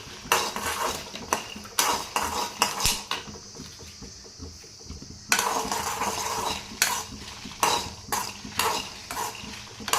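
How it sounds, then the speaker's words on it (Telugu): Gongura leaves and dried chillies fry in a pan, with a spatula clanking and scraping against the metal in irregular bursts and short pauses; no one talks. "ఆకులు సగం వేగిన తర్వాతనే మిరపకాయలు వేసుకోండి ఎందుకంటే మిరపకాయలు తొందరగా వేగిపోతాయి"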